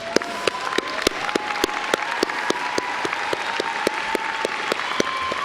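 A large audience at a SUNY Broome 2019 commencement ceremony bursts into sustained applause, loud and dense clapping with a few sharper claps standing out, continuing steadily with a faint crowd murmur beneath.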